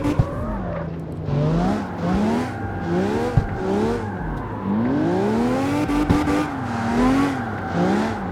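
A heavy V12 drift car in CarX Street revs and slides, its engine pitch swooping up and down across the whole run while tires squeal intermittently, close and steady with no speech.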